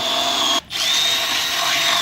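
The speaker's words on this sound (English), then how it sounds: "Just drill the other hole when you're at it." A power drill bores a hole, a loud close whine that runs steadily, cuts out briefly for a moment, then spins back up and continues to the end.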